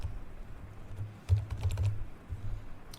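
Typing on a computer keyboard while running a new task in Windows 11 Task Manager, heard as quick irregular bursts of close key clicks with short pauses and no talking.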